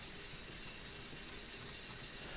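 Bike frame metal is rubbed with WD-40 to give it a brushed finish, producing a faint, steady scratchy rubbing that continues evenly without pause.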